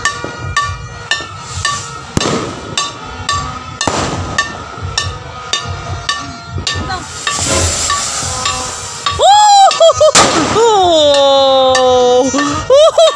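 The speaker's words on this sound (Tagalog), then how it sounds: "Ganda talaga ng fireworks" New Year fireworks burst close by, a run of sharp bangs and crackles that builds into a loud, dense finale with whistling rising tones near the end.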